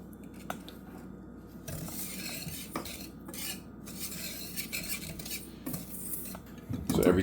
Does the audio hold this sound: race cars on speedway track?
no